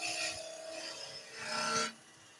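Sandpaper of 240 grit rubbing against turned wood on a lathe, a steady close rasping hiss that swells and fades over about two seconds before stopping abruptly.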